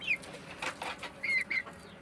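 Backyard chickens cluck and squawk in short bursts at close range, a few high calls scattered over a low background hum.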